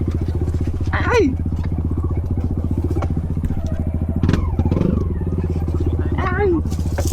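A dirt bike putters along a rocky dirt trail, its engine a close, loud, steady chugging throb with clattering and thumps over rough ground, while people call out briefly over it.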